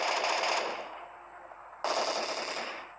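Video game gunfire rattles out in two automatic bursts, the first tapering off before a sharp second burst begins, fairly close and crisp.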